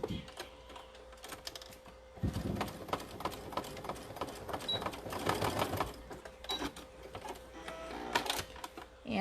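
A sewing machine back stitching a small lip balm key ring runs in rapid mechanical bursts of stitching, starting and stopping, loud and close, with no talk.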